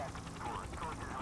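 A helicopter in the video game The Precinct, a faint steady rotor and engine drone overhead, heard briefly under a voice.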